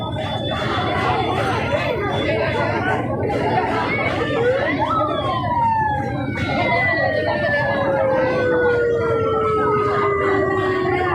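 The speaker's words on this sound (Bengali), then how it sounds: "একটি অ্যাম্বুলেন্স এসেছে অ্যাম্বুলেন্সকে যেতে দেওয়া হচ্ছে" An ambulance siren wails through a crowd at a protest outside a nursing institute, its rising and falling tone sweeping through steady background chatter and crowd noise, growing more prominent midway.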